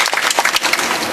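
Crowd at an Aam Aadmi Party political rally in Gujarat breaks into dense, loud applause: many hands clapping together in a steady wash that fills the short moment without pause.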